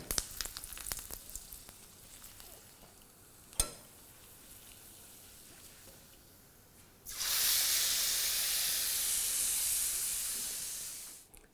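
Oil poured onto a hot charcoal for dhungar smoked dal, with mustard oil, ghee or refined oil, gives a sudden loud hiss and sizzle that hangs on for several seconds, after a quieter stretch with a single sharp tap.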